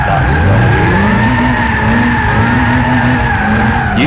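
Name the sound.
car drifting with tire skids in Gran Turismo 6 video game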